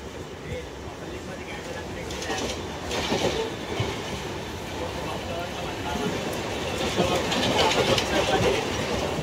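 A train runs on its rails with a steady, loud rumble and rhythmic clatter of wheels, heard from on board. People talk over the noise.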